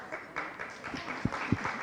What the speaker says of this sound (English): look at that. The applause is speaking for itself.